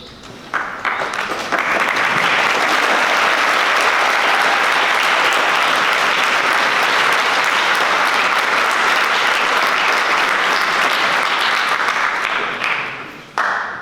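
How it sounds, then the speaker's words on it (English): Loud, sustained applause from an audience at a Model United Nations closing ceremony fills the space for over ten seconds before tapering off near the end. "This applause is for you."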